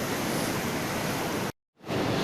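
Stormy winter sea waves roll onto a beach at Zalizny Port, a loud, dense roar of surf and wind that cuts out briefly before resuming.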